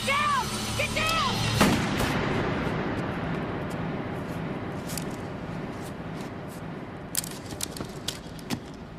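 Gunshots in a tense police drama scene: one loud crack early on, then several sharp shots later, over a steady noisy background.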